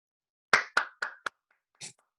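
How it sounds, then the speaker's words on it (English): Applause after a poetry reading: four sharp, close hand claps in quick succession with short ringing tails, then a pause and one softer, fuller clap-like burst at the end. "You gotta have some claps and clicks."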